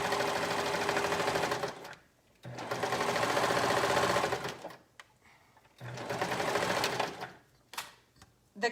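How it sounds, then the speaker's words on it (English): A domestic sewing machine runs in three sustained bursts with short pauses between, stitching the side seam of a cardigan, close and steady with a whirring, rapid needle rhythm. "So let's go ahead and sew one side and see how it looks."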